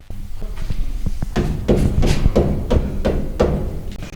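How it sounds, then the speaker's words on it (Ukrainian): Knocking on an apartment door in a multi-storey residential block, a series of about eight firm thuds in an uneven rhythm, close and loud, with no voices. "А вже коли прийшли поліціянти, вона взагалі не реагувала на стукіт."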